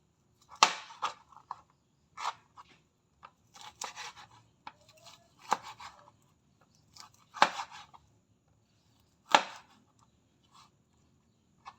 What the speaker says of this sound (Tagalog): i-chop ko itong aking leftover na lechon.